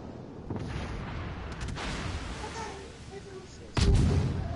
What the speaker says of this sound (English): I hit him with 6 torpedoes at once